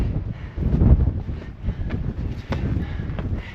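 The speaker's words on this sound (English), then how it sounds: "you'll be able to hear the difference in the wind maybe here in a second" Gusty mountain wind on the ledges of Longs Peak buffets the microphone in uneven rumbling surges, loud and close, with no voices.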